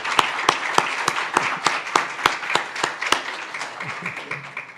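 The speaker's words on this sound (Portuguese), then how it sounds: "Uma salva de palmas." A crowd at a leisure congress applauds steadily, with many hands clapping in a dense, continuous patter and a few sharp, loud claps standing out near the front.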